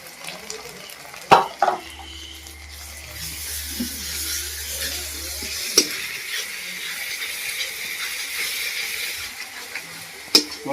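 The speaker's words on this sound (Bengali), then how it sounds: "পেঁয়াজটা এইভাবে ভাজা ভাজা হয়ে গেলে এবার আমি দিয়ে দিচ্ছি আদা রসুন বাটা এবং আদা বাটা একসাথে দিয়ে দেবো" Ginger garlic paste fries with browned onions in a pan for chicken curry, a soft steady sizzle broken by a few sharp clanks of a stirring utensil on the pan.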